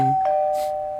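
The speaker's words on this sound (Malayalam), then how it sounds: "വീണ്ടും മണികൾ അടിക്കണ്" In a film scene, a bell rings out in one clear, sustained metallic tone that holds steady and fades slightly. A faint second strike follows at the end.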